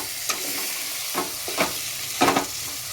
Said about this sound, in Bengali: মশলাটাকে নেড়ে ছেড়ে আর এই পটল দিয়ে নেড়ে ছেড়ে নিলাম।